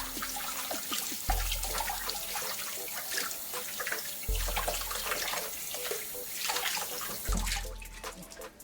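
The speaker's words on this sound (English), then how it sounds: "Let me rinse it and see what it's looking like." Running tap water rinses a food item used for decoration in a home kitchen, a steady broadband splash with intermittent surges and handling bumps, fairly close and without talk.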